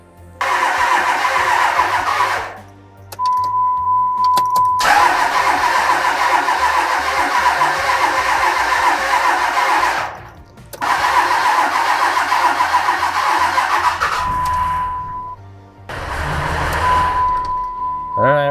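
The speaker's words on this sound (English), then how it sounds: "then I'll crank it over some more and keep doing that until it actually fires up" Rebuilt Cummins 5.9 diesel in a Ram 2500 cranks over in three long bursts with short pauses between them, loud and close, with a steady tone briefly audible in the gaps.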